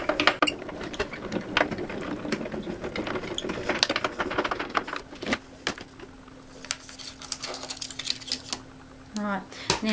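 An Ezy Press die-cutting machine is cranked to feed cardstock through on cutting pad D, making a dense run of rapid ratcheting clicks and gear chatter that thin out toward the end, with a voice speaking briefly near the close.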